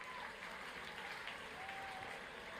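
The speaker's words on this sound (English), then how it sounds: "So please unmute your microphones and a round of applause." Faint, thin applause from graduates clapping with unmuted microphones on a video call for a university graduation ceremony, a continuous patter that sounds distant and compressed.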